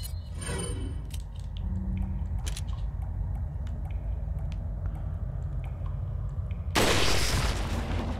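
A rifle fires in the video game Resident Evil 4: steady low game ambience with faint ticks, then near the end a single loud, broad blast that stays sustained to the cutoff.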